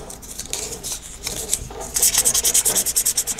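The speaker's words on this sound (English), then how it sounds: "Okay, and then you need to use this" Sandpaper rubs steadily against a homemade LoRa antenna for 868 MHz to smooth it, a close, loud scraping that turns into quick rhythmic back-and-forth strokes in the second half.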